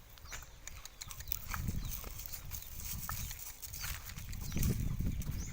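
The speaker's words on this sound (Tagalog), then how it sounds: "nahirapan yung kabayo" A horse on a farm walks along with low, irregular hoof thuds under steady outdoor rumble and rustle, close by and fairly faint.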